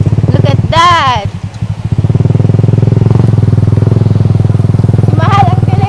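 A motorcycle rides a rough road with a loud, close, pulsing engine rumble that dips briefly and then steadies, while people talk and call out over it.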